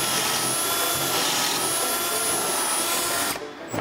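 A power drill bores pocket holes through wood clamped in a pocket hole jig, a loud steady whine running close for several seconds before cutting off abruptly.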